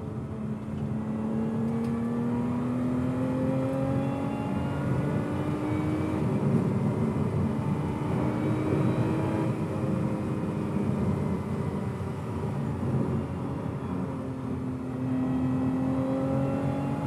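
2024 Lotus Emira engine heard from inside while driving, a steady droning hum that rises and falls gently in pitch with light throttle changes, moderately loud and continuous with no talk.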